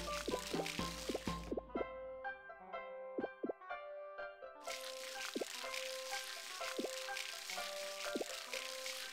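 Crops being watered in the farming video game Harvest Moon: Light of Hope, heard as a run of bright, close dripping and plopping water sounds with a short quieter stretch partway through.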